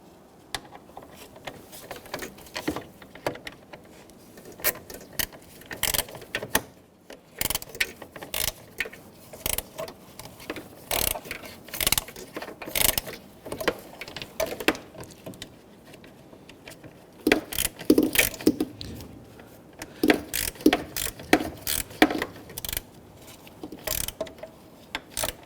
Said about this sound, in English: when tightening down these bolts, you're just simply securing plastic to plastic